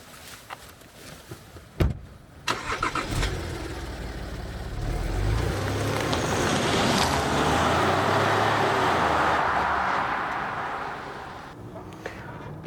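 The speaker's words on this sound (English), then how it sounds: "It's smooth, that V6 silky smooth diesel." Jaguar XF with a V6 diesel engine driving on the road, a steady smooth engine hum and road roar swelling as it pulls away, with a few clunks near the start.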